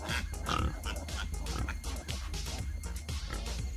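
A sow and her piglets on a farm grunt and oink in a dense, overlapping chorus, close and fairly loud against rustling movement.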